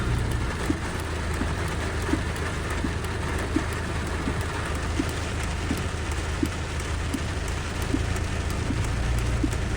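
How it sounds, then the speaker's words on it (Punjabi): Heavy rain pours steadily in a village near the Ghaggar river, a dense, even hiss with faint repeated ticks and a low rumble beneath, no voices. "ਮੀਂਹ ਪੈ ਗਿਆ"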